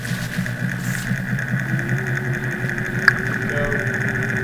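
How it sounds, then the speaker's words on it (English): An International Chemical laboratory centrifuge spins at about 2,000 RPM with a steady, moderate motor drone and a faint whine. A single small click is heard partway through. "this is an international chemical centrifuge"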